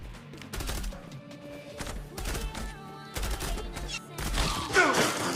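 Gunfire in the online shooter Zula comes in several loud, sharp bursts spread across the stretch, with a heavier, denser volley near the end and no talk over it.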